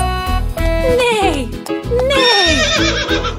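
A loud horse whinny with a high, wavering descending neigh, repeated twice in close succession over a steady background.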